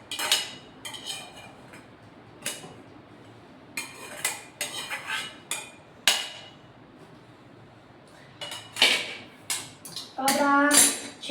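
A spoon scrapes and knocks Maggi noodles from one vessel into a cooking pot, giving sharp metallic clinks and scrapes in irregular bursts, with a rapid rattling run near the end.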